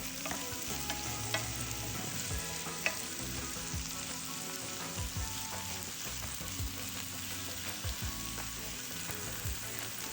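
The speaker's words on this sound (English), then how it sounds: "Stir fry until evenly mixed" Pickled bok choy, squeezed dry and seasoned with light soy sauce and a pinch of salt, stir-fried in a wok with a steady close sizzle and intermittent scraping and tossing of the spatula throughout.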